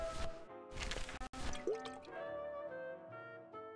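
Water dripping and pouring into a diorama in the Grim Fandango video game, a short run of wet splashy drips and trickles followed by a ringing musical tone, fairly faint.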